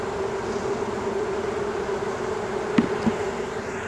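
Honey bees buzz in a steady, continuous drone from an open beehive during queen cage placement, with a couple of brief knocks near the end.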